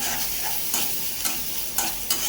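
Sarputi fish frying in a pan, a constant oily sizzle broken by four sharp bursts of stirring and scraping, close and fairly loud with no voices.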